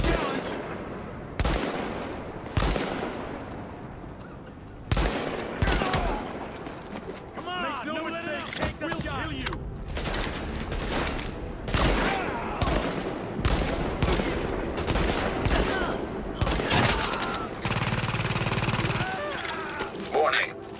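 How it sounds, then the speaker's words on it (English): Video game gunfire in Tom Clancy's The Division: repeated bursts of automatic fire and single shots spread across the scene, under frequent game voice announcements and other effects. "Warning, supplies taking fire."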